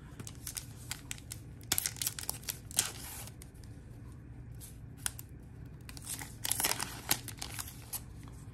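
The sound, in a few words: ripping open a pack of Topps baseball cards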